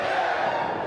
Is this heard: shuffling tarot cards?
no